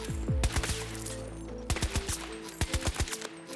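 The BSV-M rifle in Battlefield 2042 fires on automatic with high-powered rounds in three sharp bursts of rapid, cracking shots, each ringing with a short echo, close and loud.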